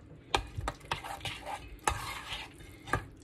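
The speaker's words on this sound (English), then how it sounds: "I'm just gonna stir that up real quick" A spoon scrapes and clinks against a bowl while coconut cake mix is stirred into sweet potato for a dump cake, with a quick irregular run of taps and soft scraping, close and without speech.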